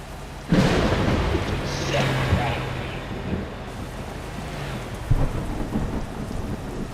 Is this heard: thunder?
yes